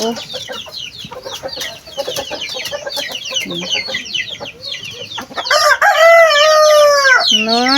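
Pet chickens cluck and chatter in a busy, overlapping stream, then a rooster lets out a loud, drawn-out crow near the end.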